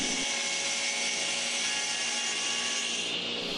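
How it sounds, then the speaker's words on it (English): A power saw blade runs steadily through wooden molding, cutting a curved arc for a tabletop clock; a continuous loud, bright whine holds for the whole stretch with no speech. "watch as the blade cuts the perfect arc right on the line"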